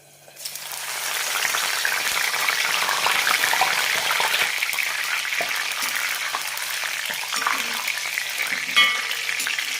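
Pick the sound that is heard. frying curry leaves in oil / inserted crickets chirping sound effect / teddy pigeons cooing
frying curry leaves in oil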